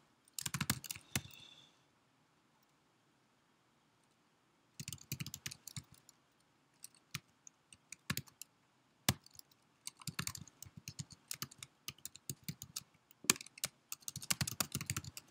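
Typing on a computer keyboard comes in bursts of close, crisp key clicks separated by silent pauses.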